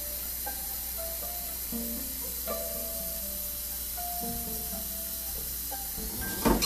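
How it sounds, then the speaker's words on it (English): A man fills a water filter, producing a steady hiss of running water with faint tonal gurgles and shifting pitches over a constant background, ending in a brief louder splash. "This is the sound of the man filling up the water filter."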